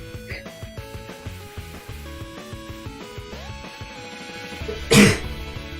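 A single loud sneeze bursts out near the end, standing clear above a background of music and chatter.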